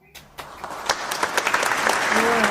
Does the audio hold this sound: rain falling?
no